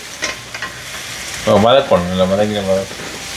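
Onions sautéing in a pan while chicken korma is cooked. A soft sizzle and stirring are heard, and a person then talks over it.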